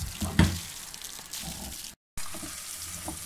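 Chicken popcorn deep frying in oil gives a continuous bubbling hiss with a few louder pops and splashes, broken by a brief cut to silence before the frying resumes.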